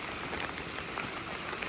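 Steady rain falls on a stormy day around a floating house in a temperate rainforest, a soft, even patter and hiss that runs without a break and with no talking.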